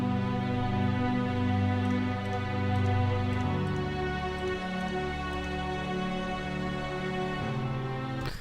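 An amateur recreation of a piece plays as dense layered synth and orchestral chords, sustained and droning with slow harmonic shifts, loud and continuous without talk.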